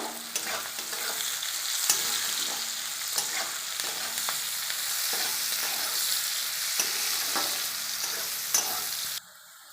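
Green chillies frying in hot oil sizzle in a bright, steady hiss, with regular stirring scrapes and taps; the sound cuts off abruptly near the end, and no one speaks.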